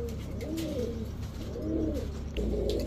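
Pigeons of fancy breeds such as Pakistani teddy, Rampuri highflyer and Giribaz coo in low, rolling phrases, repeating in close succession, near and clear over a faint background hum.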